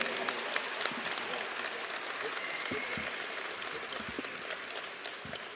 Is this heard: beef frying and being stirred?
no